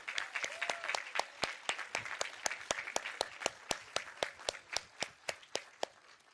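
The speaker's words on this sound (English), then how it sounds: "Huge round of applause." Applause at a rally to end child abuse, heard as a steady run of sharp, evenly spaced claps, closer to a few hands than a big crowd, with faint voices in the background across the whole stretch.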